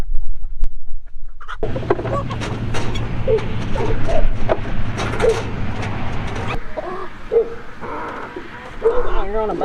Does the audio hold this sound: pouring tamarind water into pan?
no